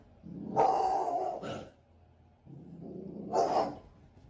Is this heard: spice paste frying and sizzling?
no